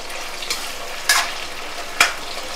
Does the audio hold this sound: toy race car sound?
no